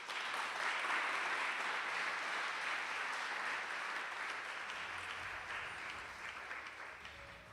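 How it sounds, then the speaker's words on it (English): Faint, steady audience applause at a National Easwaramma Day gathering, an even wash of clapping heard at a distance that slowly thins toward the end. "On behalf of all of us, please give a warm round of applause."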